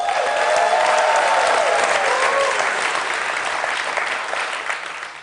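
Loud, sustained applause and ovation from a television show studio audience at the close of a comedy monologue, dense continuous clapping that holds steady and starts to thin out toward the end.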